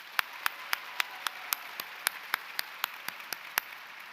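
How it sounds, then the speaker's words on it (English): Sparse individual claps from an awards ceremony audience, about a dozen distinct sharp hand claps spaced roughly evenly over a few seconds, fairly quiet and without full crowd applause or talk. "Let's give her another round of applause"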